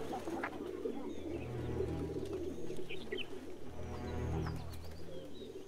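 Pigeons in a flock, black ones among them, keep up a close, continuous throaty cooing in swelling waves, with occasional thin bird chirps faintly above.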